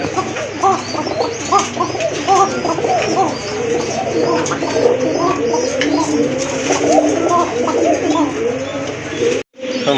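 A pair of pigeons at a farm's pigeon sale keep up continuous, close, layered cooing throughout, with a brief break near the end.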